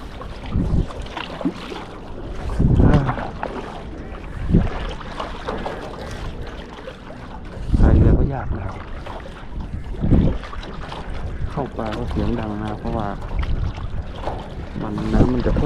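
Strong wind buffets a fishing boat out on the water in gusty, roaring bursts over a constant rushing wash, loud and close to the microphone.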